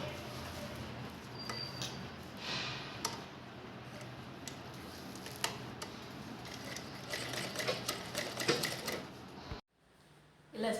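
A sewing machine runs in a steady, rapid ticking stitch across a table cloth made from a shopping bag, continuous for most of the stretch before stopping abruptly near the end, with a faint pause of quiet.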